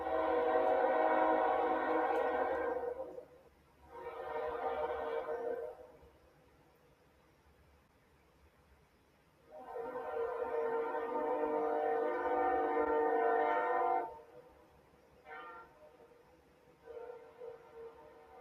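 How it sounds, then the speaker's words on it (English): A train passes outside an open window, its horn sounding in long, loud blasts, two early ones, a longer sustained one midway, then shorter toots, over a steady rumble of rolling cars. "do y'all hear that train going by?"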